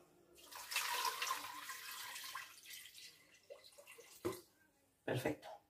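Water poured into a cooking pot to cover an octopus, a broad splashing rush lasting several seconds, then quieter gurgles and two short sharp splashes near the end.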